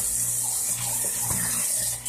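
Warm water runs steadily from a kitchen tap into a sink, a continuous close rushing splash with no talk.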